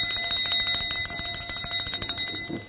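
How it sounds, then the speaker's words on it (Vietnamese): A handmade bell of natural cast brass rings in rapid, bright, steady strikes with sustained metallic overtones, loud and close. "Đấy, chuông bằng đồng. Con này nó là bằng đồng thau tự nhiên nhá"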